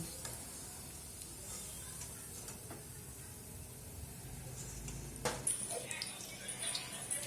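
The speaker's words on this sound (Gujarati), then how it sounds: "આ રીતે ગુલાબી થાય ત્યાં સુધી આપણે તળશું" Fenugreek fritters (methi gota) frying in oil produce a continuous soft sizzle and bubbling throughout, with a few brighter crackles and scraping touches near the end; no talking is present.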